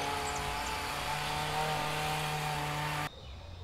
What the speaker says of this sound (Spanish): tengo un ruidito porque el vecino está cortando el cerco